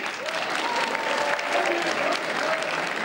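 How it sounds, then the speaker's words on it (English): An audience at a comedy show claps for the host as he comes on stage, a dense, steady round of applause filling the room with a faint voice or two over it. "Come on, let's have a clap then."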